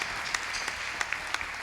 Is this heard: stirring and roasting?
no